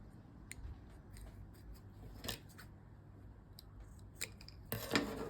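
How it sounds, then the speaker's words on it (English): Scissors snip heat shrink tubing slipped over wiring pins during a Toyota Hilux speaker upgrade, giving a few sharp, close cuts spread across a quiet background, with a louder cluster of clicks near the end. "Grab a pair of scissors and just cut it short."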